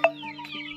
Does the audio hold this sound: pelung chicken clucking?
yes